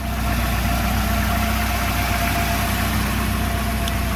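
A Volvo 240 idles steadily with a low, even engine rumble and hum, close and continuous, with no voices over it.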